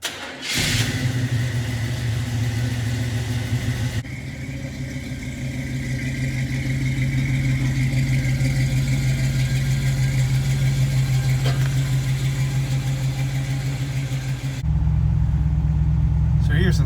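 An old Chevrolet Camaro's engine idles with a steady, close mid-pitched rumble, then revs and pulls away, the tone rising as it drives off; a voice talks briefly near the start.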